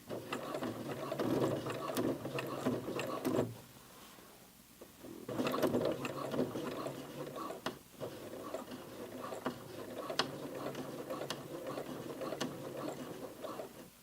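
A home sewing machine stitches over a jeans side seam: a steady, close mechanical whirring rattle runs almost throughout, briefly pausing and then resuming with slight labouring as it climbs the thick seam.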